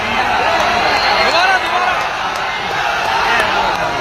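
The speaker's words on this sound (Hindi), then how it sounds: "एक बार पुरजोर तालियां बजा दें अपने महबूब शायर के लिए" A large open-air crowd at a poetry gathering claps and cheers loudly for a poet, with whoops and shouts in a continuous roar. A voice talks over the noise.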